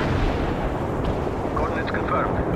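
Artillery rounds landing in World in Conflict: Soviet Assault, a continuous heavy rumble of shelling with faint pops and crackles on top and a constant loud roar throughout.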